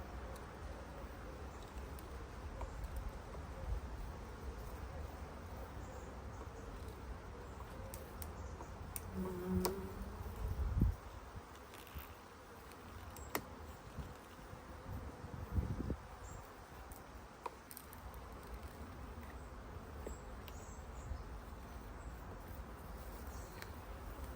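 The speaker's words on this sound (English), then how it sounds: "That's colony full of bees, this one" A honey bee colony in an open hive hums with a steady, dense buzz that holds for the whole stretch, close and even, with a few louder passes and brief handling noises around the frames.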